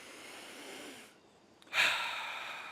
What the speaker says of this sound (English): If I breathe deeply through my nose, I'm expanding my stomach.